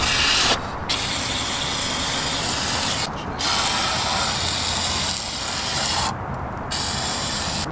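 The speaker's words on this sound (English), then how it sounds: "Can I just spray everything?" Aerosol can sprayed in the engine bay of an AE86, long steady loud hissing bursts broken by brief pauses between presses of the nozzle, close up.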